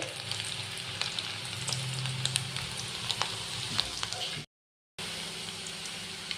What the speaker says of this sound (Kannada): ಇದನ್ನೀಗ ಆಯಿಲು ಕಾದಿದೆ, ನಾನಿಲ್ಲಿ ಇದನ್ನ ಫ್ರೈ ಮಾಡ್ಕೊತಾ ಇದ್ದೀನಿ.